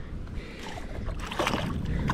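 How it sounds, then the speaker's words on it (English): Strong wind buffets the microphone outdoors by the water during spring bass fishing, a rough, continuous roar that grows louder toward the end. "This wind is ridiculous."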